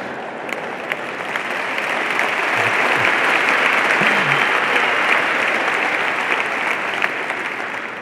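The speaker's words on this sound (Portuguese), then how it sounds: "Porquê que uma sala aplaude dois caralhos que chegaram atrasados?" A full comedy-club audience in Portugal breaks into sustained, loud applause for latecomers arriving at a stand-up show, a thick continuous roar of clapping with a few faint voices and whoops mixed in.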